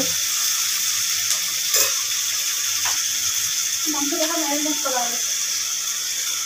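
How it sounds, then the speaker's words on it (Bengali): Meat and onions frying in a pan at home, a steady bright sizzling hiss throughout, broken by a few clinks and a brief murmuring voice-like sound near the end. "দেখো মাংস রান্না করছে, পেঁয়াজ ভাজছে, কি সুন্দর করে করে পেঁয়াজ ভাজছে"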